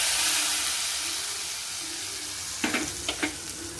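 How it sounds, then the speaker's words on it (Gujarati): Near the end, a Gujarati dal tempering of mustard seeds, cumin, asafoetida and red chili gives a few sharp, crackling sizzle bursts over a soft background hiss, close and moderately loud. "અને લાલ મરચું ઉમેરી તરત જ એનો વઘાર રેડી દેવાનો."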